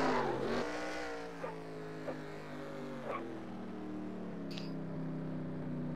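Race car in a racing video game on its victory lap, a fading engine drone with a few brief revving bursts, moving away and growing quieter with no talk.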